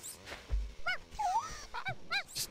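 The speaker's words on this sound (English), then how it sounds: "The strange part is the rabbit barks." A rabbit in the Petz 5 video game gives short, barking, dog-like yips, several quick calls spaced apart with whimpering tones between them.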